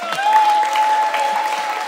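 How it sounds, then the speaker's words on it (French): A church congregation applauding, a steady wash of dense clapping from many people, loud and continuous for the whole short stretch, with a faint tone and a voice underneath. "Applaudissez pour elle."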